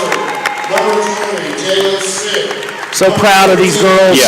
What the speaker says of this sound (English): Give these young ladies a big round of applause.